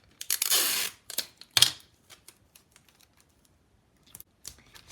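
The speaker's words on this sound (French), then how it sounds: "je vais venir vraiment sécuriser mes bandes avec du scotch" A long sticky rip of tape pulled from a roll, then a second shorter tear, followed by scattered light taps and pats close by as the tape secures woven paper strips on a card.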